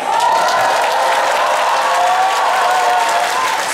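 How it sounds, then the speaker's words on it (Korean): A concert crowd in a Daegu performance hall applauds and cheers for a trot singer, a loud, sustained roar of clapping with shouts and whoops layered on top, steady and full from start to finish. "여러분이 저를 움직이게 하는 거는 박수와 함성이에요"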